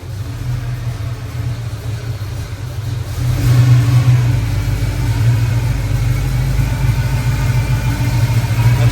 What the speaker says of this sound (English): That's a good sounding truck.